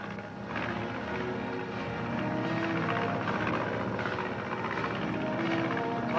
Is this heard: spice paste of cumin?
no